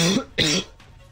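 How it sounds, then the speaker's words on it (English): A person coughs twice in quick succession, close and loud, after choking on a drink, with a throat-clearing quality and no talk over it. "That's me still coughing from choking on my drink earlier."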